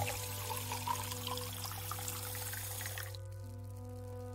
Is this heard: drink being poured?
yes